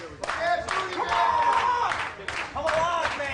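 Wrestling crowd at a 2005 CHIKARA tag match cheering and clapping for Sabían, a steady roar of voices in bursts, fairly close and continuous.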